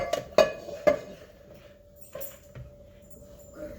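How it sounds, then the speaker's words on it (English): Meat goes back into a pan for a beef noodle ragu casserole: two sharp metallic clanks of pan and utensil close together, then softer scrapes and light clinks fading out. "you can put the meat back in the pan"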